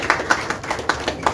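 Steady rhythmic clapping from an audience at a press conference in a Bujumbura hotel, about seven evenly spaced claps in quick succession, moderately loud.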